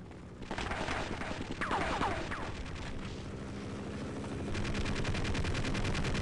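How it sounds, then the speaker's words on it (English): Machine gun fire in the video game Half-Life, rapid bursts of shots with explosive booms and a few whistling sounds, ending in a fast steady rattle. "That machine gun fire came from nowhere."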